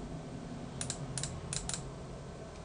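A relay clicks rapidly on and off in an electrical test circuit, four quick pairs of sharp, faint clicks over a steady background hum.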